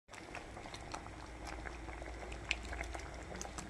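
Mango jam of mango pulp, sugar and cardamom powder simmering in a pan over a low flame, a steady soft bubbling with scattered small pops, close and fairly quiet throughout.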